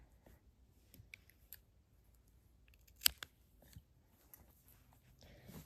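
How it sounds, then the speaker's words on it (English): Scissors snip through yarn during a star coaster knitting project, faint and close, with a few small clicks and one sharper cut. "And then you would just cut it off."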